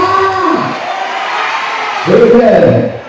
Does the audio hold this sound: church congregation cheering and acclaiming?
yes